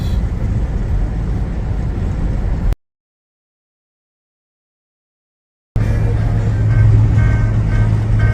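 Road noise inside a Ford Bronco Raptor on the move, a low steady rumble of engine and tires with a break of silence partway through, and a voice speaking over it.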